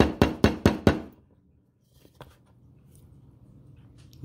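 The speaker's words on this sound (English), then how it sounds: "So you just put the little piece of bread in, tap it down, just enough to get it down in there." A small piece of bread is tapped down into an Arrma 2050kv four-pole brushless motor to push out a bearing, four quick close knocks, then quiet with a faint later tap.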